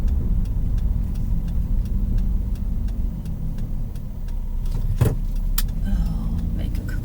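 A car drives slowly through residential streets, a steady low engine and road rumble with a light rhythmic ticking and a brief thump partway through.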